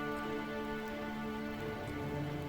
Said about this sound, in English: Let's get out of the rain by going home.